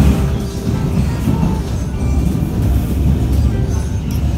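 Steady low rumble of a train in motion in Hong Kong, a continuous rolling drone with faint rattles, heard from inside the carriage.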